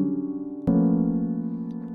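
Piano notes sounding together in a dissonant chord: a sustained tone rings, then a sharp new attack adds a clashing, slightly beating cluster that holds and slowly fades, close and clear without speech.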